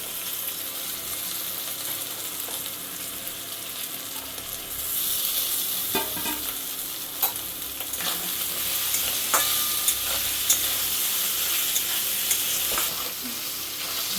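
Boiled chicken pieces go into a frying pan for an egg chicken pasta, and a steady close sizzle fills the pan while a utensil scrapes and stirs with irregular knocks, with no talk.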